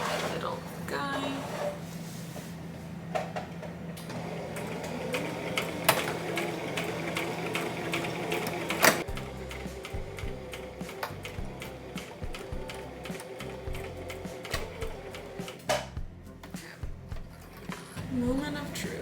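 A sewing machine stitching a t-shirt, its needle running in bursts of rapid mechanical clatter that start and stop through the clip, with a person talking between and over the runs.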